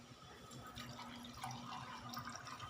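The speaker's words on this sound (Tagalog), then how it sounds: "Dalawang basong tubig lang." Water poured into a pan of adobong sitaw (string bean adobo) being cooked, a steady, close trickling and splashing of liquid that runs continuously throughout with no talking.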